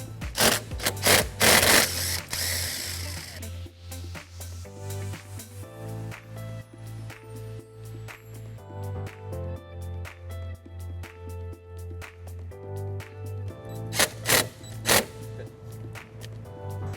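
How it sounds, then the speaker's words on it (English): A 12mm socket and ratchet work a nut off the battery of a 2005 Toyota Highlander, giving steady rapid clicking close up over a low constant hum, with a louder scraping burst at the start. "On the battery, I'm going to be removing this nut using a 12mm socket."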